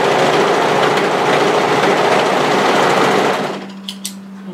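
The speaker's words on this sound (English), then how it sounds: "we're going to overlock the shorter edge, and this shorter edge is going to become the underarm" An overlocker stitches the short edge of a fabric cuff in a fast, loud, even mechanical whir that stops abruptly near the end, leaving a faint hum and a couple of small clicks.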